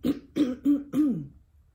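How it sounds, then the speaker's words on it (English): A person gives four quick, harsh coughs in a rapid cluster, close and fairly loud, with the last one trailing off into silence. "I don't know why I'm still coughing like this"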